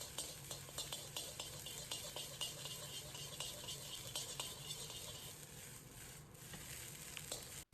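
Egg fried rice with shrimp is stir-fried in a wok, giving a continuous close, loud sizzle broken by repeated rhythmic scrapes and clatters of the spatula against the pan. No one speaks.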